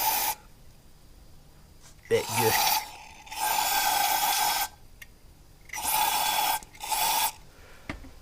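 An aerosol can sprays into the cylinders of a Ford Focus ST 225 with bent valves, giving several hissing bursts of varying length with pauses between them, while someone talks briefly.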